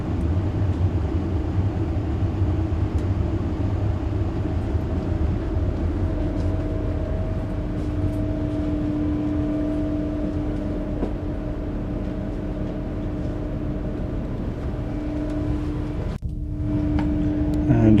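Interior of a moving 12-coach Javelin high-speed train, a steady low rumble and hum with faint tonal whine rising midway, continuous and close, briefly dipping near the end.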